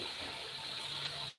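Tap water gushes steadily into a kitchen sink during washing up after a home-cooked lunch, a close, continuous splashing that cuts off abruptly near the end.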